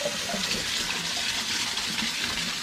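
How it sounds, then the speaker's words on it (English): Apples being rinsed under a running tap while preparing homemade cider: a steady, fairly loud gush and splash of water that runs without pause throughout. "I'm just going to give these a bit of a rinse"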